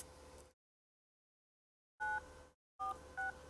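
A telephone number keyed in on a keypad: a burst of two-tone DTMF beeps, one tone after a pause and then two quick tones, separated by silences, clean and close.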